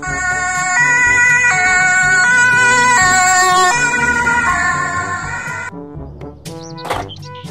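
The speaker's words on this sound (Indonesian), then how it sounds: "Mobil ambulan." A toy ambulance siren wails in a loud, steady two-tone pattern, stepping between pitches for several seconds before it cuts off and gives way to brief scattered chirps.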